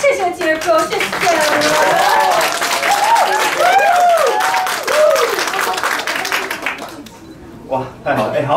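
Clapping from a small audience at a charity press conference with musical theatre performers, loud and brief, with excited voices calling out over it before it tapers off.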